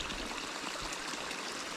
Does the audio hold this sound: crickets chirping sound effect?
no